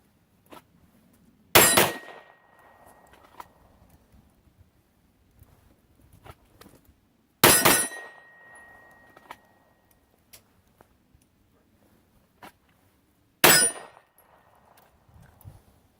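An Arsenal Strike One pistol fires three widely spaced shots, each a loud sharp crack followed by a brief metallic ring as the round strikes a steel target. Quiet stretches separate the shots.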